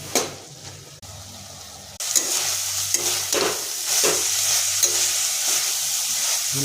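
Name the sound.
snails frying and being stirred in pan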